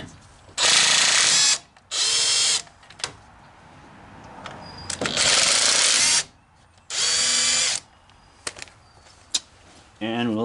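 Impact or power tool bursts removing 19mm bolts from the brakes of a 2018 Chevy Silverado, four loud sustained runs of a second or so each, separated by brief pauses with small clicks, close up with no talking.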